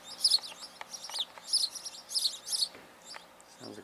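Baby birds chirping in a park, rapid high twittering in several bursts, fairly close, followed by a short low thump at the end.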